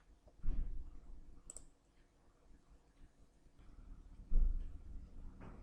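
Two soft mouse clicks on a PC, one near the start and another a few seconds later, faint and close against a quiet room background.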